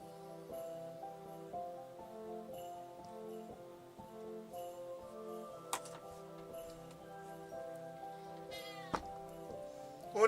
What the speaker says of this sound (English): What do you want, kitty cat? You're just being a pest